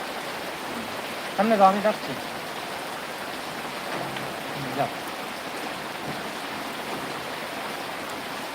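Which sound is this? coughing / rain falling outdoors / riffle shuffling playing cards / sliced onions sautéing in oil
rain falling outdoors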